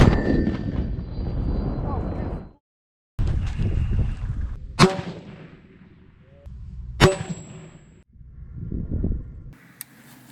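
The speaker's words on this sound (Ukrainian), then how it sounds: "Постріл!" Two sharp, loud rifle gunshot cracks ring out several seconds apart during combat firing drills in Ukraine, amid noisy outdoor background rumble, with brief gaps of near silence.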